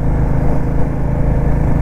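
A motorcycle climbs the mountain road toward Sela Pass in Arunachal, its engine a loud, close, steady rumbling drone with no speech.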